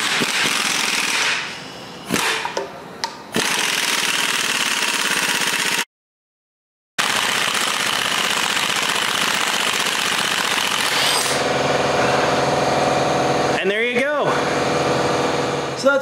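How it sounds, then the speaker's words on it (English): Air impact gun working on the harmonic balancer bolt of a Chevrolet 454 big block engine in a shop, loud rapid hammering bursts with brief pauses, one full silent gap midway, then a final rattling burst. "But we do have an air gun, so we're gonna use it."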